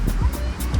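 Ocean waves roll and wash onto a Bali beach near sunset, making a steady surf hiss with soft rhythmic swells and a faint murmur of distant activity.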